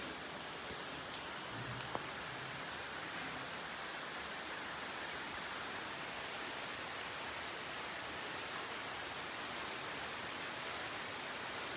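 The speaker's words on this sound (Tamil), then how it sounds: "ஆனால் மழை பெய்யுது" Rain falls steadily in a faint, even hiss that stays constant throughout, with no voices.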